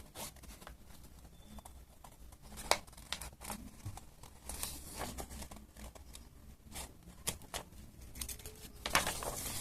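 Scissors snip through paper for a homemade tricorn pirate hat, a run of short, crisp cuts and rustles at close range with no talking.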